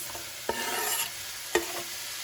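Green onions with spices like cumin and red pepper flakes sizzle steadily in a hot pan nearby, and two sharp stirring scrapes cut through the constant crackle.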